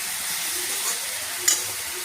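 Fenugreek leaves sautéing in a pan for a traditional methi khopa dish, with a steady close sizzle and stirring, one brief scrape near the middle and no voices.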